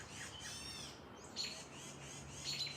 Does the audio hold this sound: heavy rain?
no